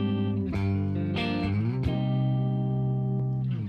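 Clean electric guitar through a Kiesel preset on a Hyperrig with chorus in classic mode, a few quick picked strums leading into one long sustained chord that rings steadily and gently wavers before cutting off.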